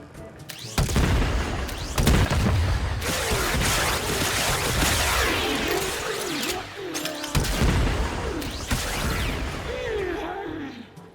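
Aeolak explosive-shot gun in the shooter game Warframe fires in heavy booming blasts and crashes, dense and loud across the whole stretch, with short gaps and tonal game effects between bursts.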